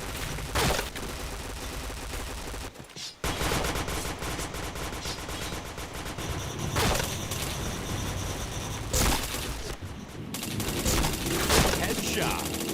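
Video-game weapon fire in a shooter, with repeated bursts of rapid gunshots and a few heavier single blasts, loud and continuous over a dense game soundtrack.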